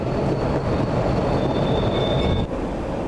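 A train runs in Splinter Cell: Double Agent on the New York City money train level, a loud, steady rumbling roar with a thin high whine riding over it before a brief dip near the end.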